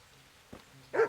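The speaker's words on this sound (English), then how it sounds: "Dog." A dog in the medieval game Kingdom Come: Deliverance lets out a single short bark near the end, moderately close and loud, with a fainter earlier yelp and no talking.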